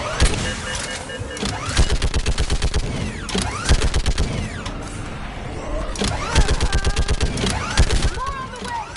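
Rapid sustained gunfire from the video game Mass Effect 3, loud bursts of automatic shots in repeated volleys with brief pauses, mixed with game effects and shouted voices.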